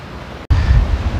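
Strong wind gusting hard across the microphone beside a wind turbine blade displayed outdoors, a loud continuous roaring buffet with a brief drop before it surges back even stronger.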